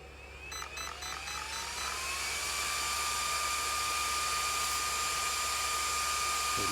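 A homemade high-speed RC fan driven by an ESC spins up from start, its whine climbing in pitch over the first seconds and then settling into a loud, steady, close-up high-pitched drone with rushing air.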